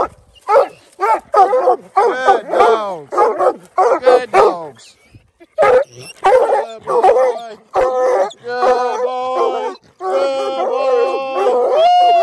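Black and Tan coonhounds bay and howl at a treed raccoon during a late-season hunt, loud close drawn-out bawls and yips repeating in bursts, several dogs overlapping, with brief gaps between calls.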